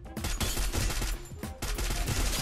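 Rapid gunfire in the Free Fire mobile battle royale game, dense bursts of close, loud shots in quick succession with a brief lull in the middle before more firing.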